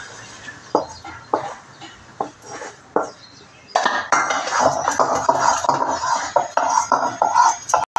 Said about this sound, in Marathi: आता ही आपली मेथी परतून झाली हे मी काढून घेते